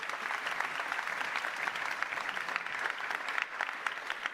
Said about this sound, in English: please give him a big round of applause as well